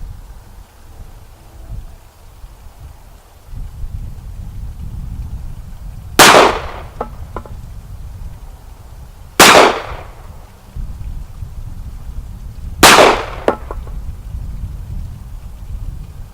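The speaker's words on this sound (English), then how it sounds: "The CZ75 SP-01. Loaded, chambered, safety on." Three loud, sharp gunshots from a CZ 75 SP-01 pistol, spaced a few seconds apart over a low background rumble, each crack close and abrupt with a short decay.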